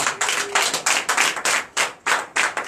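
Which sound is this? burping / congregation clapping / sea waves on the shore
congregation clapping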